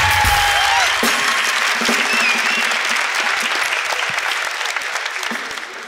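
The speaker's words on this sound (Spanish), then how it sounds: "Un fuerte aplauso para toda la gente de Arequipa que ha venido hoy día" Audience in Arequipa breaking into loud applause, a dense steady burst of clapping that gradually thins and fades over several seconds.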